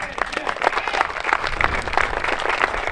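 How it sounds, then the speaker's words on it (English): A festival crowd at a Celtic Festival opening ceremony claps, a lively, uneven patter of many hands with distinct nearby claps standing out over the mass. "Please give Jim a round of applause."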